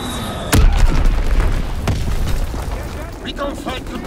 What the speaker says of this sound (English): Dropping Flitz X bomb.